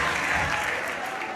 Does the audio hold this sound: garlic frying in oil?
no